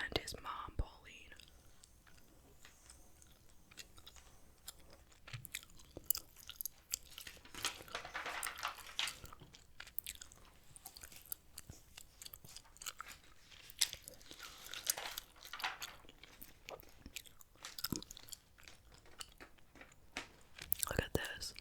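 Soft whispering mixed with moist gum chewing, close to the microphone, continuous and quiet, with occasional crisp paper rustles from flipping through a vintage magazine.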